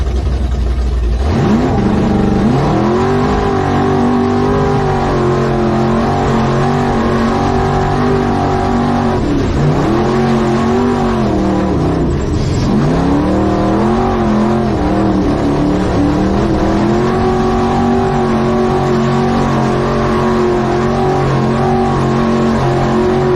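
A race car makes a pass in a played-back recording, its engine a loud, sustained revving drone that rises and dips through repeated shifts over about twenty seconds, with no talking.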